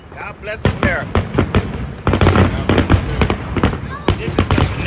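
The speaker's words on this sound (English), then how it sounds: "This is the finale. I guess the fireworks over" Fourth of July fireworks finale in Arizona bursting in a rapid string of loud pops and booms, with crackling between blasts and people talking over the noise.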